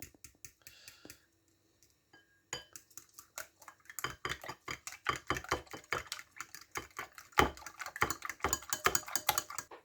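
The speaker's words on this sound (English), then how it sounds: "The spices are in, and now we're going to give that a whisk." Eggs mixed with spices are whisked in a bowl: after a few sparse clicks, rapid rhythmic tapping and clinking of the whisk against the bowl builds up, close and fairly quiet.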